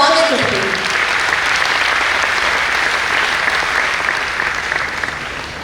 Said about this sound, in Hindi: जोरदार ताली के साथ हम आपका स्वागत करते हैं।